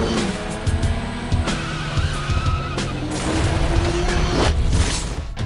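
A Mazda RX-8 races in the Need for Speed: Most Wanted video game, its engine roaring continuously while tires squeal and skid through turns, loud and up close with no talking.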